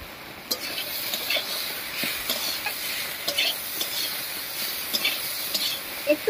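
Steamed young taro stolons fry in a pan with salt and turmeric, a continuous sizzle broken by repeated scraping stirs and light utensil knocks, close and fairly loud, with no talking.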